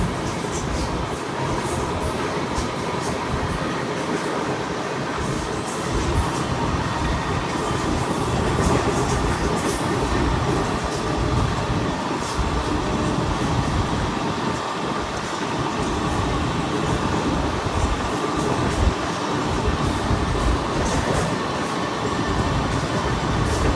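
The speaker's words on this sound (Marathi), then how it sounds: "आता ट्रेनमध्ये बसले आपण आता, तर ग्राउंडला तुम्हाला भेटू." Inside a moving train between Bhayandar and Virar, a steady loud rumble of wheels and carriage noise runs without a break, with faint rattles and no clear talk.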